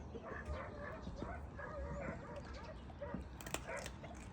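Dogs barking and whimpering at a distance, faint and scattered, with voices and background noise mixed in.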